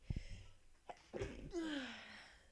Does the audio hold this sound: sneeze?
yes